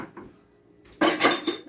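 Dishes, cups and cutlery clatter loudly in a burst of repeated clinks and knocks during dishwashing, following a quieter stretch of faint kitchen noise.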